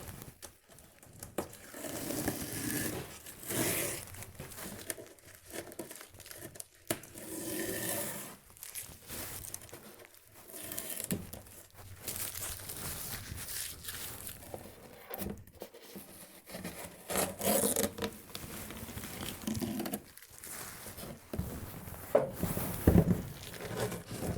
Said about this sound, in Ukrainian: Тепер я знімаю з нього